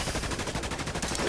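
Rapid automatic gunfire from a first-person shooter, Dust 514 on PS3, a dense continuous burst of shots filling the whole moment at steady loudness with no talking.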